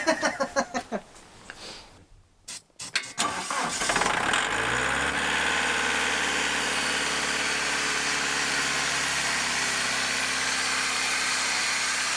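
A Detroit Diesel engine cranks over and fires up, catching after a few uneven bursts, then settles into a loud, steady, close-by idle with a heavy low rumble.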